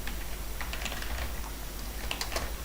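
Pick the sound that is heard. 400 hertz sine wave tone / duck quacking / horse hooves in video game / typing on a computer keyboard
typing on a computer keyboard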